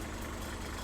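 A Kubota M4700 tractor engine runs at a steady idle, a constant low rumble heard alone for under a second.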